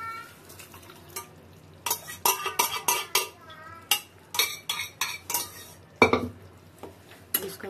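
Mutton kheema being stirred in a pot, a run of close metallic clinks and scrapes of a spoon against the metal in quick bursts over a low sizzle.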